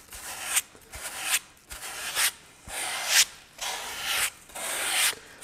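Sandpaper is worked by hand along the edges of a small wooden heart in a series of close, rhythmic rasping strokes, roughly nine, with brief pauses between them. No one speaks.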